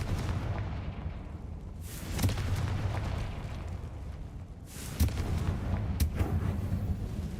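Fire-curse Confringo spell blasts in the Hogwarts Legacy video game, several booming explosive bursts at about two, five and six seconds over a steady game-world rumble, no talking.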